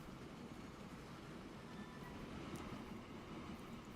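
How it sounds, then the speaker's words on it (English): A big train rolling into a train yard in the video game Transport Fever 2, heard as a faint, steady rumble and rolling noise throughout with no voices. "here's our big train coming in now"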